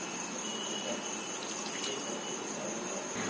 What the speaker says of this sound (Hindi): 1/4 कप के करीब हम पानी डालेंगे